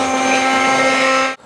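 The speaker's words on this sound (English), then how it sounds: "You're going to use a stick blender and you're going to blend this into a smooth puree." A stick blender purees tomato sauce with basil stems removed, for fileja alla nduja, running as a loud, steady motor whir with a constant hum for over a second before cutting off abruptly.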